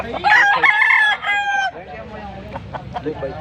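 A Boston breed rooster at a Saturday poultry market in Pampanga crows once, loud and close, followed by quieter clucking and market noise.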